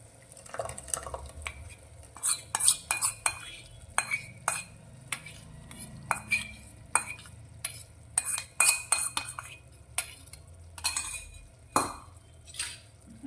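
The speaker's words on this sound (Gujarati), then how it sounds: "મસાલાને આપણે સારી રીતે શાકમાં મિક્સ કરી અને એક મિનિટ માટે સારી રીતે સાંતરીશું" Masala paste stirred and sautéed into a long beans (lili choli) curry in a pan, with an irregular run of close spoon scrapes, clinks and soft sizzling ticks and no talk.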